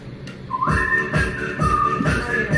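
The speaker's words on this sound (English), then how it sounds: "This one has whistles," Whistled melody in a played song: clear, sustained whistle tones sliding between pitches over a rhythmic beat, loud and continuous throughout.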